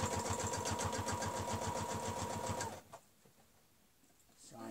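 A sewing machine stitches fabric along a quilting ruler, a steady rapid mechanical chatter close up that runs for under three seconds before cutting off to near quiet.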